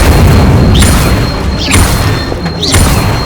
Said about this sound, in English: Levioso! Accio! Incendio!